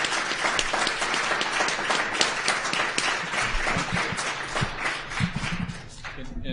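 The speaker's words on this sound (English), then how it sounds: "So let's give them all a big round of applause." An audience at a political discourse panel in Iowa City claps for the panelists, a fairly close, steady round of applause with distinct individual claps that starts to taper off at the very end.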